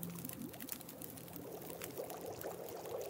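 Melted snow water pours in The Long Dark, a steady soft stream of liquid with faint rattling, alone and without talk.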